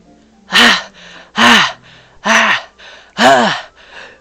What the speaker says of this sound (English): Sharp inhale like someone's sucking air through their teeth.